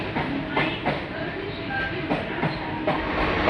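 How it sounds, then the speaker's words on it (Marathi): A Mumbai suburban local train rolls into the station, giving a continuous close rumble with rhythmic clatter pulses and a brief squeal, while voices talk faintly in the background. "लोकल आली"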